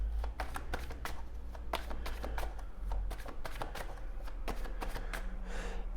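Tarot cards shuffled during a reading, a run of quick crisp riffling ticks and flicks repeating steadily over a low steady hum, close and moderately quiet with no voices.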